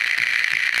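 A crackling, hissing radio transmission breaking up in Max Payne 2, a continuous bed of static with irregular rattling bursts and no clear voice coming through.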